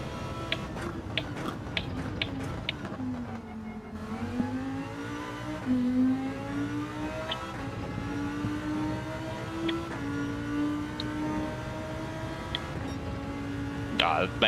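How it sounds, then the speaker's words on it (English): Race car engine in Gran Turismo 7, heard from an in-car camera on the Sardegna circuit, revving up and down through gear changes beneath a person talking, with occasional ticks. "You hear the engine noise from this cam."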